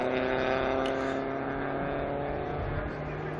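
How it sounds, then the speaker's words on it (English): A Group 4 Ford Escort historic race car at the Estoril Classics circuit, its engine droning loudly and steadily with the pitch shifting as it works through the gearbox, close by, no speech. "Shoots down hard right up through the gearbox. It's the Group 4 Escort out again."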